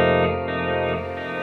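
A sustained electric guitar chord through a Marshall Bluesbreaker model with tape delay and spring reverb rings out, thickened with echoing repeats and a washy, springy reverb tail, loud and alone.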